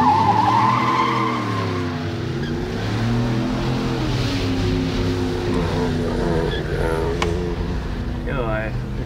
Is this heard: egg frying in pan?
no